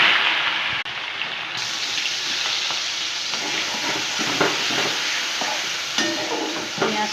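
Onions fry in oil with whole spices until browning, a steady close sizzle with occasional stirring scrapes and small clinks.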